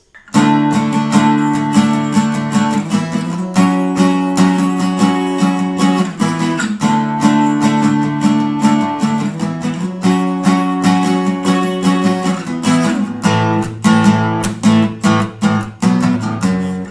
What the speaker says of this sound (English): He plays 3 power chords.